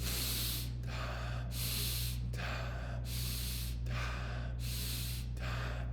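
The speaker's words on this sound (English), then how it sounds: "It's very intense breathing. It's called hypoxic breathing." Forceful, rapid hypoxic breathing in a steady rhythm, sharp active inhales alternating with looser passive exhales, about seven breaths, close to the microphone over a low constant hum.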